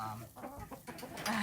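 A sanctuary rooster clucks several times, near and fairly loud, with hens and other birds chattering in the background and occasional soft movement around the enclosure.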